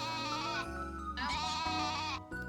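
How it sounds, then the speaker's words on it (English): Loud, insistent sheep bleats in the farming video game Story of Seasons: A Wonderful Life, several long wavering calls one after another, close and alone without talk. "No one told me the sheep were gonna be so loud"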